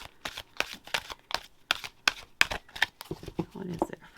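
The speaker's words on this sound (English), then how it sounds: "Let's pull an oracle card." A deck of oracle cards being shuffled by hand, a rapid series of crisp riffling flutters and taps in quick succession, close and clear, ending under a few moments of quiet talking.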